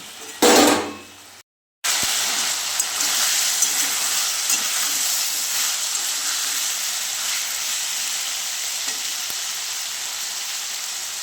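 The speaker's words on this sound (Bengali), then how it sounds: "এবার এইটাকে ভেজে নেব" Salted tomato and potato fry in a pan: a short clatter and a moment of silence, then a loud, even sizzle that holds steady to the end, with a few faint taps and no speech.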